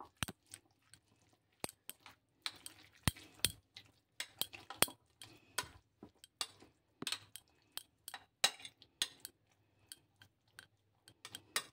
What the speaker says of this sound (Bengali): এবারে এর মধ্যে একটু আমি সমস্ত উপকরণগুলো মিশিয়ে নিচ্ছি।